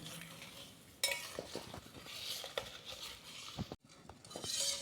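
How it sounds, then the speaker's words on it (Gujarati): A spoon stirs finely chopped jaggery into a glass of lukewarm water, giving scraping swirls and light metallic clinks against the vessel, fairly quiet and close. "હવે આપણે ગોળને ચમચીની મદદ વડેથી આપણે હલાવીને ઓગાળી લઈશું।"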